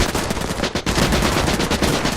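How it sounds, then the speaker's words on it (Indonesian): Dense machine-gun fire from soldiers in an action film, a loud, continuous rattle of rapid shots with no talking. "Semua tentara menembak."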